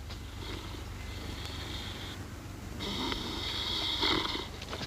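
A man snores in a 1947 radio drama, two drawn-out, raspy breaths heard close and fairly soft, the second one louder.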